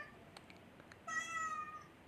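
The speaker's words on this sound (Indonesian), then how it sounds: "kucing berceloteh dengan mengeluarkan suara mengeong rendah berkali-kali" A cat gives a few faint, short chirps, then one clear, drawn-out meow lasting under a second, close and quiet against a hushed background.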